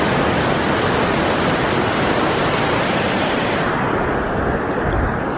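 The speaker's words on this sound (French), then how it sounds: "on est genre au bord de la plage" Ocean surf washes continuously onto a beach, a dense, loud, steady roar of breaking waves with no pauses and no voices.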